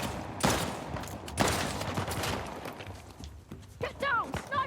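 Sniper gunfire cracks in Uncharted: The Lost Legacy, with two loud sharp shots standing out over rumbling game noise and a voice speaking near the end.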